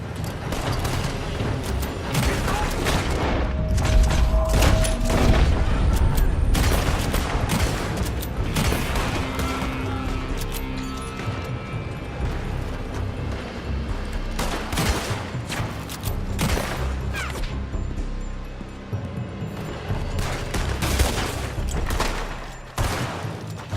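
Heavy gunfire from the western video game Red Dead Redemption 2: dense, sustained volleys of rifle and pistol shots crack continuously at close range with no pauses, forming a loud, unbroken barrage.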